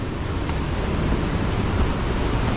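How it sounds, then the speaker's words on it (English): A waterfall in Tennessee roars steadily, a dense, continuous broadband rush of falling water, loud and close with no pauses. "very nice waterfall"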